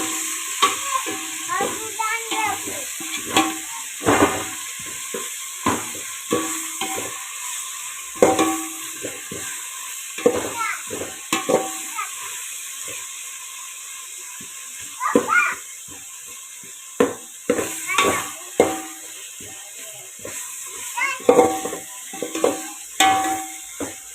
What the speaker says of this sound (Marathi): पुन्हा एकदा परतून घ्यायचं कांदा मऊ होईपर्यंत